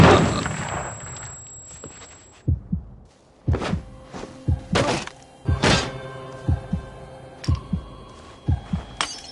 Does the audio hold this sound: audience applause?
no